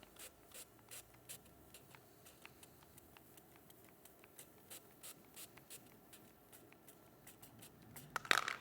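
Small bottle squirted during a children's object lesson with a coin, a series of short, quiet, evenly spaced spray bursts continuing for several seconds, followed by a louder rustle at the end.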